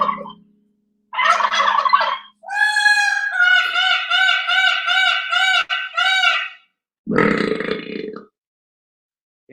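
A woman imitates a turkey with loud, close gobble calls: a short burst, then a long, rapidly pulsing gobbling run, a break, and a rougher final call, each separated by silence.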